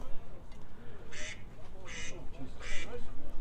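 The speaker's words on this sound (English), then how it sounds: "Ducks are flying very low here at the field" Ducks flying low over a baseball field give three distinct loud quacks spaced about evenly apart, heard over steady talk from a game commentator and the low murmur of the ballpark.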